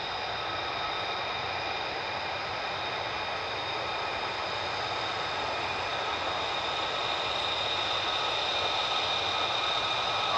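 Steady, loud roar of an F-35A's single jet engine at RAF Lakenheath during a morning flying session, a continuous broadband rush with faint whine tones holding constant throughout and slightly swelling toward the end.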